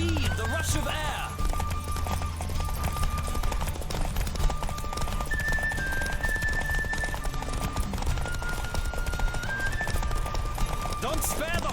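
Horse hooves galloping in The Witcher 3, a rapid steady clip-clop running under spoken dialogue and background music, close and continuous for the whole stretch.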